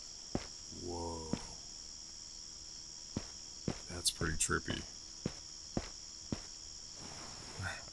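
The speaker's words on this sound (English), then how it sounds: "It seems like the ambience has changed a little bit. Like it's later in the day, like it's becoming evening. With the crickets." Crickets chirp in a steady high-pitched evening ambience in the video game Backrooms, faint and continuous, with scattered footsteps and a person speaking briefly over it.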